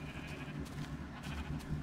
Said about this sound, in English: I'm gonna punch these sheep happily.